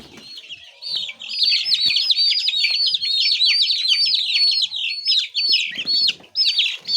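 A brooder full of young chicken chicks cheeps continuously, high and loud up close, with a few rustles and handling noises between the calls.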